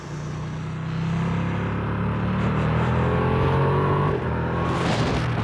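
A Ducati Streetfighter V2 twin-cylinder motorcycle engine revs up and pulls hard, its pitch rising across several gear runs, loud and close with a brief dip before climbing again.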